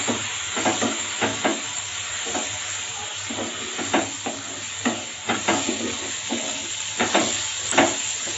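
Spices fry in a pan with ground cumin, turmeric and chilli powder, giving a continuous close hiss broken by repeated scraping stir strokes in an uneven rhythm. No one speaks.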